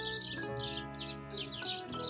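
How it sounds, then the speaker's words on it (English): Loud birds chirping in a spring garden in April, with bright, rapid tweets in bursts close by over a steady tonal background hum. "Those birds are so loud."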